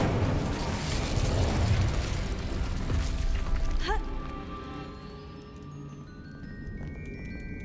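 Incendio fire spell cast in the video game Hogwarts Legacy, a loud roaring, crackling burst of flame that fades into quieter ringing magical tones.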